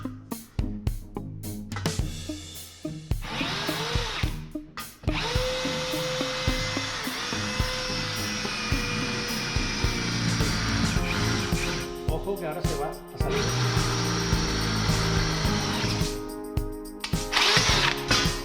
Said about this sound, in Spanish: Y vamos a ver si hace la broca como tiene que hacerla, el boquete